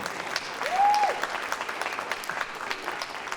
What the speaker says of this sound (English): give yourselves a round of applause, everybody who's here.